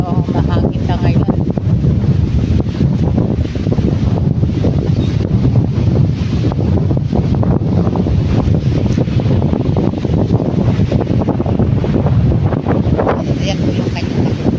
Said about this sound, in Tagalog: Medyo mahangin na ngayon.